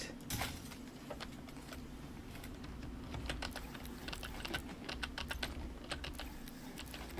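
Steady clacking of keys on a computer keyboard, typed continuously at close range in a quiet room with a low hum underneath.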